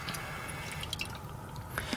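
Coolant trickles into the expansion tank of a BMW E90 335i during bleeding, a faint, irregular patter of drips and small splashes over a quiet background.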